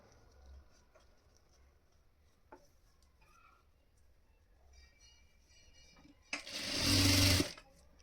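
A sewing machine stitching blouse fabric for a small girl's Nauvari blouse gives one loud, close burst of running stitches near the end, after several seconds of quiet room tone with faint small clicks.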